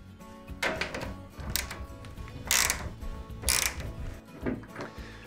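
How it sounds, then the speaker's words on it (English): A socket wrench ratchets as it undoes a 10mm transit bolt on a washing machine, giving close, repeated clicking pawl strokes with metallic thunks, and no talking. "You'll need a spanner or a socket wrench, and the most common size is 10mm, and they undo as you'd expect."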